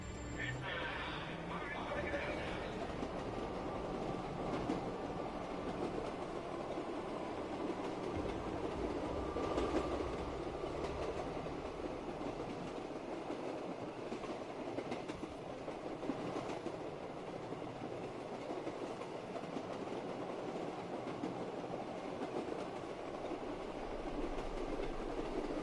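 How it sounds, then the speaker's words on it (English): A video game train rides along the tracks with a continuous rumbling roll and faint rail clatter, steady and moderately quiet, while a voice talks over it throughout. "Maybe I should just keep riding the train."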